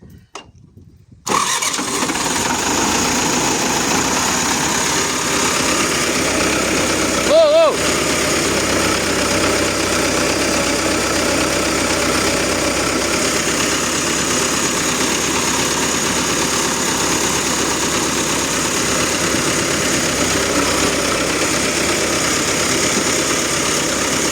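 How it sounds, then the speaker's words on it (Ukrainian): A T-40 tractor engine cranks and fires after a short silence, then idles with a loud, steady diesel rumble close by for the rest of the clip, with one brief dip partway through. "А ну покажи як трактор должен заводиться."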